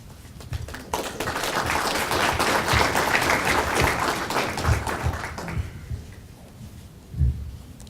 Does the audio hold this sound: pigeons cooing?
no